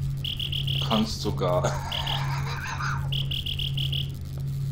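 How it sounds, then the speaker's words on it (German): Regular high chirps from crickets in the game Starbound pulse in short evenly spaced bursts over a constant low hum, with a brief stretch of talk and other game noises interrupting the rhythm midway. "Ich höre Grillen."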